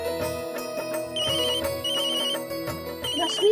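Incoming-call phone ringtone in a Hindi TV drama household scene, a melodic repeating tone pattern with bright high chirps recurring through the clip, steady and fairly loud, no talking over it.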